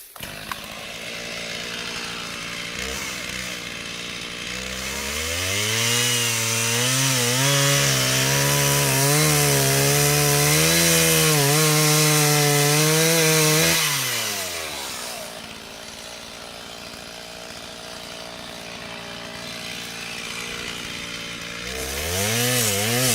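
A chainsaw making the felling cut through a standing tree idles, then revs up into a loud, strained cutting whine for several seconds before easing back to a sputtering idle and revving again.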